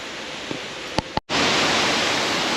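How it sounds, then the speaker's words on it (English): A rushing waterfall roars as a broad, steady wash of noise on a hillside climb in Nha Trang, Vietnam, with a few clicks and a brief dropout before the roar resumes at full strength. "There's the top of the waterfall"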